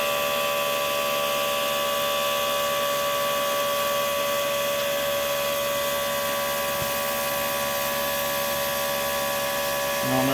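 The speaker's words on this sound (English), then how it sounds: "That's the compressor kicking on." An air compressor feeding an airbrush runs as a steady, close mechanical hum with a constant whine, holding level for the whole stretch.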